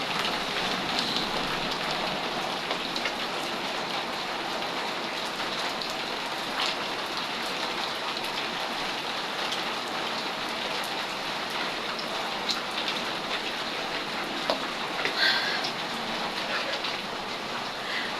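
Heavy storm rain pours down steadily and densely for the whole stretch, a loud continuous hiss of drops on surfaces with faint voices now and then.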